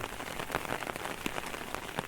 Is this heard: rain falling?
yes